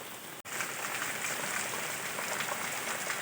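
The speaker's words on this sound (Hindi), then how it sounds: "बारिश आहिस्ता आहिस्ता हुण तेज होंदी जा रही है।" Spring rain falls steadily outdoors with a dense, even patter and hiss, getting heavier over time. There is one brief dropout near the start, and no voices are heard.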